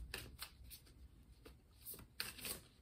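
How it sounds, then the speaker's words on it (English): Tarot cards being shuffled by hand in repeated soft riffling bursts, close and fairly quiet, with short pauses between passes. "Let's do some shuffling and pull 7 tarot cards"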